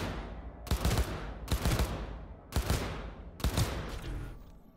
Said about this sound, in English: Cover will protect you from enemy fire.